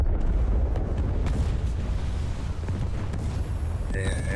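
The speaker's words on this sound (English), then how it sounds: "TNT and armor piercing bullets going straight out." Heavy naval gunfire from battleships in War Thunder, firing TNT and armor-piercing shells: a continuous loud rumble of booms and blasts with a faint tonal alarm near the end.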